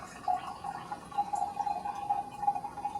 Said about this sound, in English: angling our lid just a little bit to give us an opening here to pour through